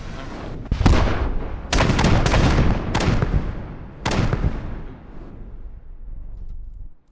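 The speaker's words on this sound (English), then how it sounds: "we've got some missiles airstriking it somehow" Missile airstrike explosions in a video game: several loud, booming blasts in quick succession, each with a sharp onset and rumbling decay, the last one fading into a long low tail.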